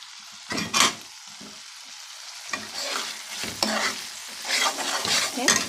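Snake fish curry with tamarind is stirred and fried in a pan, giving a steady sizzle broken by several scraping spoon strokes, close and clear.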